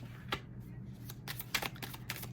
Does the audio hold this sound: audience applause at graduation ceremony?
no